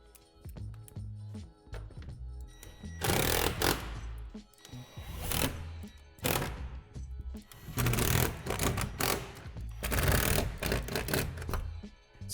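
Screws are driven in bursts to fasten a plastic Lifetime shed roof panel to its wall panel, with several loud, close spells of power-driver whirring and rattling separated by quieter pauses.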